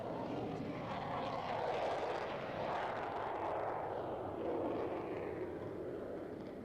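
Loganair propeller airliner engine drones steadily and loudly throughout, a broad continuous roar with slow swells, heard from inside the cabin on a flight to Barra.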